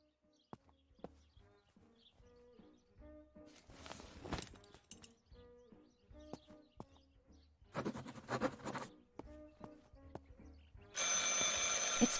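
A telephone rings inside a house in the video game Martha Is Dead, faint bursts of ringing among soft footsteps and clicks, with a louder bright ringing swelling at the end.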